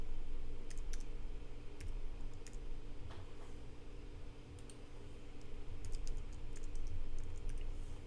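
Someone types on a computer keyboard while logging into WordPress, with irregular clusters of quiet clicking keystrokes over a steady background hum.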